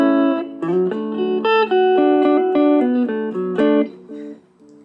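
Electric guitar played clean through a Laney mini amp with the delay switched off, a run of distinct picked notes and chords ringing steadily and dry, loud and alone for about five seconds before fading.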